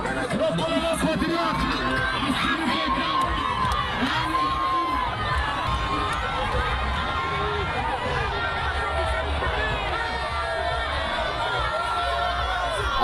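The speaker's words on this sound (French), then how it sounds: "Assimi Goïta, regarde la foule." A dense street crowd in Mali cheers and shouts for Assimi Goïta, a loud continuous roar of many voices with chatter mixed throughout.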